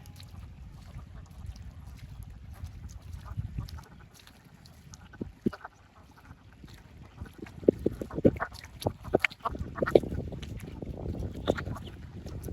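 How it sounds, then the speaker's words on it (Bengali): Hundreds of ducks in a rural char area by a river quack and honk in a loose, irregular chatter. The calls are soft at first, then grow louder and busier over steady low outdoor rumble. "একে ঝাঁকে ঝাঁকে হাঁস"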